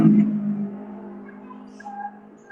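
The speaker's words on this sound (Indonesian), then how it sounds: "ada suara mobil lewat" A car passes outside and fades away, its low rumble loudest at first and then tapering off into quiet.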